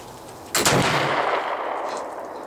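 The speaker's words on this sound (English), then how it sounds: "that's the first shot out of my new flintlock" A single loud gunshot from a new flintlock muzzleloader rifle cracks out sharply, followed by a long rolling echo that slowly fades outdoors, with no talking.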